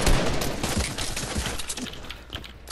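Rapid bursts of gunfire in a Fortnite Arena Duos match, dense overlapping shots that are loud at first and then ease slightly, with no talk over them.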